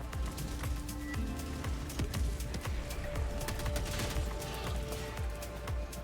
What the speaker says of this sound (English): There's like an artillery thing around here, it sounds like.